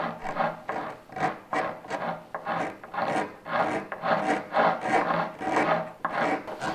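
A hand tool scrapes and rasps along the live edge of a wood slab in steady, rhythmic strokes, roughly a dozen close, loud passes with brief gaps between them.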